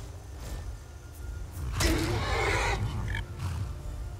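A horse neighs in the video game Skyrim, a loud close whinny in the middle of the sound over faint low background noise.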